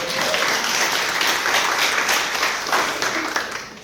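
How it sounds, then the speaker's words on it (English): An audience at The Black Care Experience Conference breaks into dense, sustained applause with cheering, loud and continuous across the whole stretch, with no one speaking over it. "Give a round of applause."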